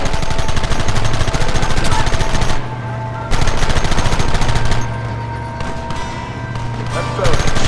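Rapid gunfire in Red Dead Redemption, loud bursts of repeated shots in fast rhythmic volleys with brief lulls between them, backed by game music and a hint of voices.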